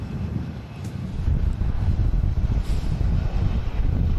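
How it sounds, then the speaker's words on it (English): A Lufthansa Airbus A321 arriving from Frankfurt comes in to land in strong gusts at Manchester Airport, a steady low jet roar swelling after the first second and holding loud, mixed with buffeting wind noise on the microphone. "Lufthansa next to land from Frankfurt. A321."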